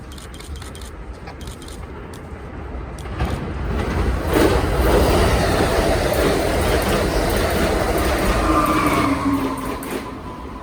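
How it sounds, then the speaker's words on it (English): An Amtrak Keystone Service passenger train heading from Harrisburg, Pennsylvania to New York's Penn Station, passing trackside in New Jersey as a loud, swelling roar with wheel rumble and clatter that builds, holds and eases off. "Amtrak Keystone Service train 650, on its way from Harrisburg, Pennsylvania to New York's Penn Station."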